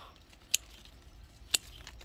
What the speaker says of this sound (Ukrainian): Самі малесенькі я обрізаю, оставляю одну грушку.